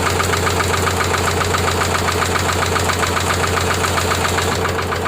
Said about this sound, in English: She's a smooth runner, but man, then the rod is just knocking big time.